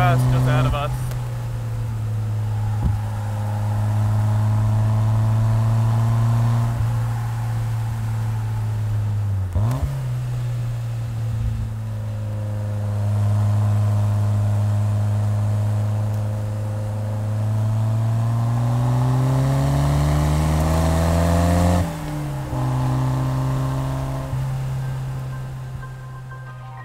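A Porsche GT3 RS race car engine drones on a track during a performance driving school session, steady tone shifting as revs rise and fall, with a couple of quick gear changes, heard from a following car.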